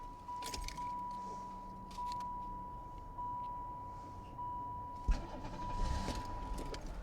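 An Oldsmobile Cutlass Supreme with 66K miles cranks and fires up, a burst of starting noise followed by a steady idle, preceded by jangling keys and a constant electronic chime inside the car.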